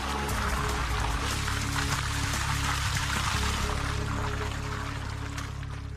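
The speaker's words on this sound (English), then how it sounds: "but the porous paving's soaking it up" Water pours steadily onto porous paving, a continuous close splashing and trickling wash that holds at an even level for several seconds before easing slightly, with no talk.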